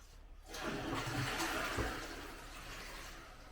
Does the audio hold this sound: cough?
no